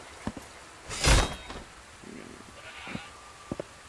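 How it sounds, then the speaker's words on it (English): A goat sacrificed to the gods in the video game Wartile gives a single loud, close bleat, set among a few soft thumps and clicks over a low background hum. "we are sacrificing a goat to the gods."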